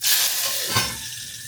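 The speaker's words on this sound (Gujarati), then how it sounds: "આમાં પહેલાં મેં મીઠો લીમડો અને આ લીલા મરચાં નાખી દઉં." Curry leaves and green chilies hit hot oil with a sudden loud sizzle and spatter that settles into a steady frying hiss, heard close and alone.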